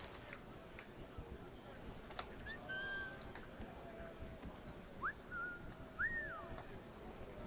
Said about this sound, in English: There's somebody whistling in here.